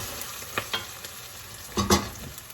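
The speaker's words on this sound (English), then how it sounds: "we'll cook garlic and onion together until this becomes light, sort of gold brown" Garlic and onion fry in olive oil, a close, continuous sizzle broken by a few short scrapes and stirs. The loudest pair of stirs comes near the end. No voices.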